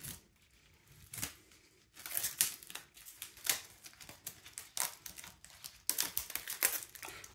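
Protective plastic film peels and crinkles off a new Asus TUF 5060 Ti graphics card, with sharp tearing and crackling bursts close up, broken by short pauses.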